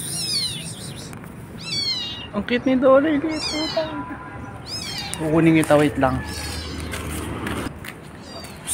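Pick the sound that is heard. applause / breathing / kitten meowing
kitten meowing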